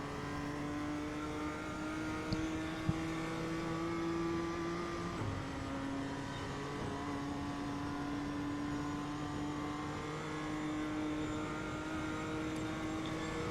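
A BMW M2 race car engine in the iRacing simulator at Mount Panorama, Bathurst, drones steadily under acceleration, with a gear change partway through before the revs climb on again. No one speaks.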